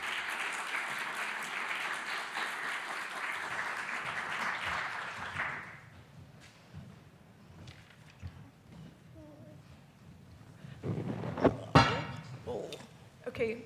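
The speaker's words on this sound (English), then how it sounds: "Please join me in giving them a round of applause." Conference audience at King's College London applauding as panelists come on stage, a steady wash of clapping that fades out after a few seconds, followed by quieter room noise and some talk.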